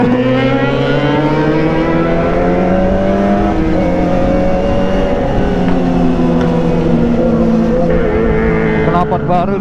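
A Kawasaki ZX25R motorcycle with a new SG Project exhaust revs loud and close, its high-pitched wail climbing and sliding in long sweeps, with voices talking over the engine noise.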